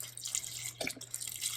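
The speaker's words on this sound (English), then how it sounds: "I'm going to pour in, how much is this? 4 cups of chicken broth." Chicken broth pours into a pot of green lentils, a steady close liquid stream with soft splashing and a brief gurgle midway.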